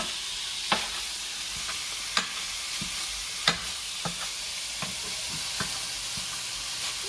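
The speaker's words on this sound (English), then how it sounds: "let's cook some hamburgers" Hamburger patties sizzle steadily in a hot pan, a soft continuous frying hiss broken by several sharp scrapes or taps of a utensil.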